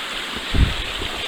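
Water rushes steadily at a stream crossing on a mountain hiking trail up Bondcliff and Mount Bond, a close, continuous broadband roar with a brief low splash in the middle.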